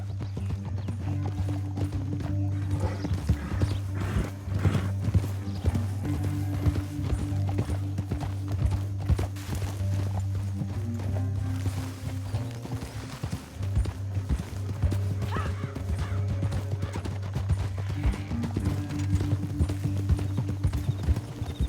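Rapid horse hoofbeats in the video game Red Dead Redemption 2 clatter in a steady galloping rhythm, loud and continuous, with a low rumbling drone underneath and occasional brief breaks.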